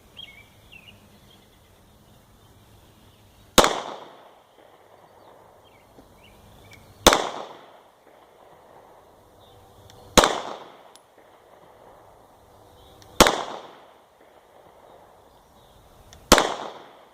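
Five loud, sharp shots from an HK VP9sk subcompact pistol fitted with an extended magazine plate, fired at a range, spaced about three seconds apart with quiet and faint birdsong between.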